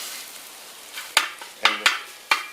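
Sausage sizzles in a pan for a breakfast burrito with a soft steady frying hiss, broken by four sharp scraping knocks as the meat is pressed and stirred.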